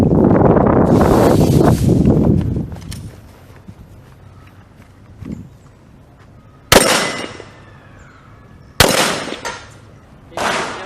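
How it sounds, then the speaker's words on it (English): Glock 17 pistol fired during a move-and-shoot range drill: three sharp, loud reports spaced a couple of seconds apart, each with a short ringing tail, after an opening stretch of broad rushing noise and a quieter interval. "Fighters, magazine of 5 rounds, load. Okay, fighters, watch, move and shoot."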